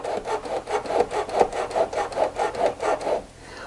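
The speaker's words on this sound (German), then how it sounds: "Und poliert eure Spannungsscheibe." Cotton cloth rubbed back and forth between the tension discs of a Pfaff sewing machine, a steady rhythmic rasping of about a dozen even strokes, close and alone, fading at the end.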